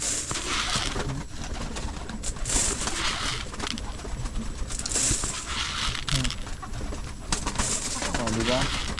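Pigeons coo softly and repeatedly close by, their low throaty calls running steadily beneath occasional rustling, with some talking in the background.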